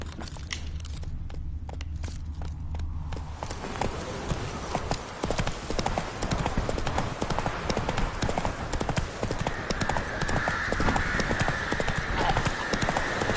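Hooves of the horse Roach in The Witcher 3 clip-clop in a steady, fast gallop rhythm, starting quieter then driving loudly throughout, with a brief whinny-like sound and game ambience layered in.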